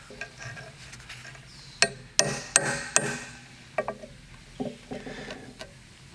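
A hammer drives a center punch into gray cast iron in a workshop, producing a series of sharp, dry metallic taps, several in quick succession and then a few softer ones, close up with no talking.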